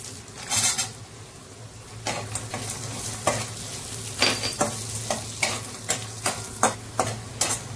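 Peanuts sautéed in a pan over a low flame while cooking potato rassa bhaji, a soft sizzle under repeated rhythmic stirring scrapes and taps of a spoon against the pan, close by.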